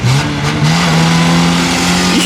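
A mini truck's engine hums steadily while driving, with a brief rev near the end; close, continuous and loud, no talk.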